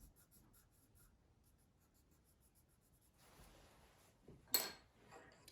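Soft scratchy strokes of a colored pencil on paper, steady and quiet, with a brief louder scrape near the end.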